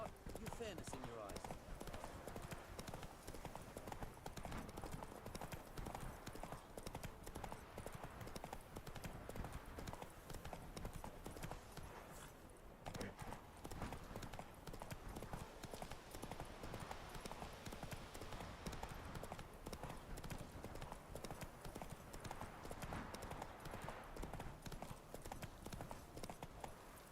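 A horse galloping in the video game Red Dead Redemption 2, with steady rapid hoofbeats running throughout under spoken game dialogue and ambience, fairly quiet overall.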